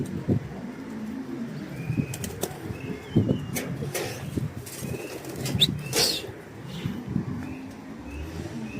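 Pigeons, Iraqi tumbler pigeons, coo nearby while wings flap in short bursts in flight, several quick sharp flutters standing out against a quiet outdoor background.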